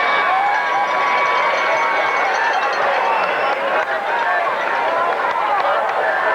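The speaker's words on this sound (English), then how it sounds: "And you hear the crowd react." A large football stadium crowd in a 1991 TCU versus Texas game roars loudly and continuously in reaction to a penalty, a dense wall of distant cheering and shouting with a broadcaster talking over it.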